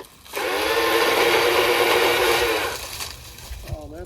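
A Milwaukee pole saw cutting through a fallen tree, a close, loud motor whine that rises quickly and holds for about two seconds before winding down, with a brief voice afterward.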